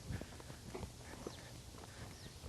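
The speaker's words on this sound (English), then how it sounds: "One of the things my horses will do is they will track straight up the arena." Hooves of a barrel-racing horse walking straight up an arena, soft, muffled footfalls at a steady pace, faint and somewhat distant against low background noise.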